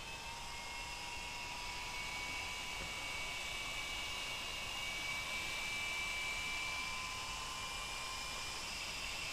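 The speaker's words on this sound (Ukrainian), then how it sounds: "Вентилятор активно крутиться." A steady, continuous whir of the cooling fan on an AMS Bi LED Z8 car headlight lens spinning at high speed, with a faint constant tonal whine running throughout, no pauses.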